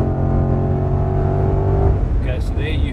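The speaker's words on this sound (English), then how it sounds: "In that V8 growl" A 405 kW V8 car accelerates hard on a track with a loud, close, throaty growl that tails off after about two seconds, followed by brief higher-pitched sounds.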